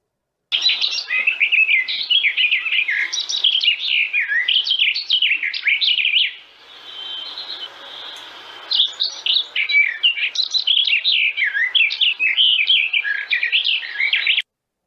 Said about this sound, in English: it's garden warbler. And it can sound quite similar to black cap, but tends to last, you know, the phrasing tends to last a lot longer.